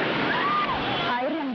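A tsunami surge of black water floods along a busy main road, a dense continuous rush and splash of churning water with a voice speaking over it.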